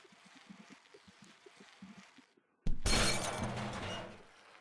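Glass shatters in the Happy Wheels video game, a sudden loud crash that bursts in after a brief silence and sustains as a dense spray of breaking fragments, following quieter rumbling game sounds.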